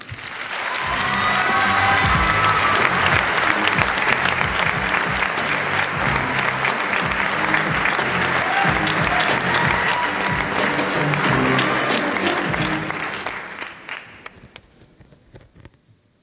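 Sustained audience applause at a French eloquence contest final, a dense wash of many hands clapping that holds steady for a long stretch, then fades out near the end.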